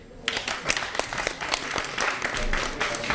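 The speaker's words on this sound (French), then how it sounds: "On l'applaudit." A studio television audience applauds a man called up on stage, loud continuous clapping with sharp individual claps standing out for a few seconds.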